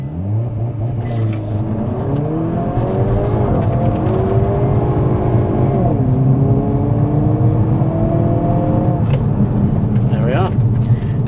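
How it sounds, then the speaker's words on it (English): A 2022 Hyundai Kona N with dual-clutch gearbox doing a launch control start: engine held at high revs, then loud acceleration rising through several gear changes, with a person talking over it. "So there we have our launch control, folks."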